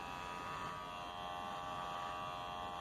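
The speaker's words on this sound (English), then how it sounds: "I want you to shave my chin" Electric razor shaving a person's chin, a steady close buzzing hum with no speech over it.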